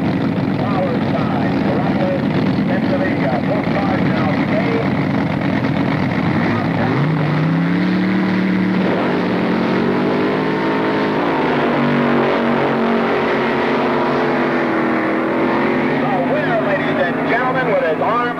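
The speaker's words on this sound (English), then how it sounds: "Identical to the mighty fuel dragsters, except that their engines run on pump gasoline, the gassers are nearly as quick as their more powerful cousins." Gas dragsters running on pump gasoline roar at the 1969 NHRA Nationals, loud continuous engine noise with rising and falling pitch sweeps as cars pass, under a narrator's voice.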